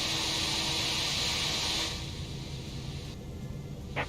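Simulated Airbus A319 engine starting in the X-Plane 11 flight simulator, heard from outside the cabin window: a steady, moderately loud rushing hiss and whine that eases to a lower drone partway through, with no voices.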